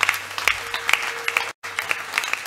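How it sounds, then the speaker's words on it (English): Scattered applause from a church congregation giving a clap offering, a few distinct claps close by over a softer murmur of clapping, briefly cut by a dropout near the middle. "Let us thank God with a loud clap offering."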